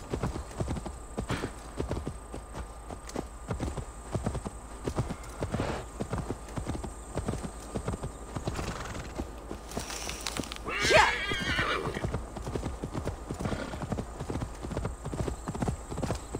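Rhythmic hoofbeats of a galloping horse in Assassin's Creed Valhalla pound steadily throughout, with a brief whinny partway through over a low background.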